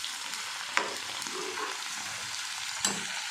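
Onions fry in mustard oil and ghee, giving a soft, steady sizzle with a couple of sharp spatula clicks against the pan.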